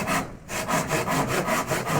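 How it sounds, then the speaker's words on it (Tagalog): A handsaw rasps through rotten wood in steady back-and-forth strokes, about eight even pulls, close and clear with no voices. "Ang lagari."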